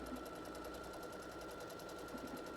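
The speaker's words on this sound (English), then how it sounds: "This sews over itself several times, reinforcing it." Sewing machine running a steady reinforcing stitch back and forth over the same spot, a continuous fast mechanical whir with rhythmic needle clatter, close and alone with no talk.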